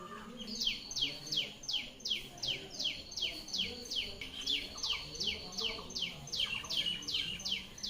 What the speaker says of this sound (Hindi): बाहर चिड़ियों का चहचहाना